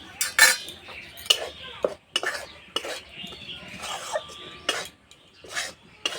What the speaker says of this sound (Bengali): হালকা আঁচে বেসনটা খুব ভালো করে ভেজে নেব।